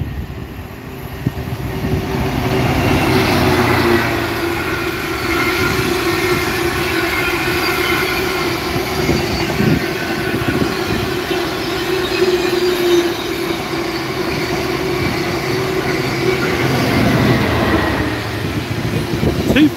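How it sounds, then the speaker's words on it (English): A heavy Freightliner Class 66 freight locomotive rumbles past close by at Stoke-on-Trent for a long stretch, engine droning steadily with squealing wheels and clanking wagons, in a train simulator game. "we've got a Freightliner Class 66 here"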